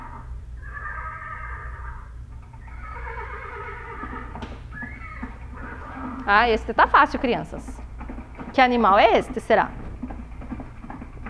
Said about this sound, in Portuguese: Alguém falou cavalo. Vamos ver se é o cavalo. É o cavalo.